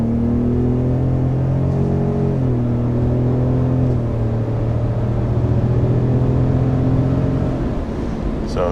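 Second-generation Ford Raptor pickup truck accelerating hard, a steady loud engine drone whose pitch climbs through gear shifts over several seconds, with no talking.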